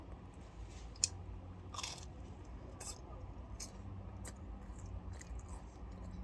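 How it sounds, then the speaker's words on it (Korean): Close, crunchy bites and chewing of a jalapeño with bread from a bakery, several distinct crisp crunches spaced irregularly over a quiet room murmur. "이제 할라피뇨 먹어."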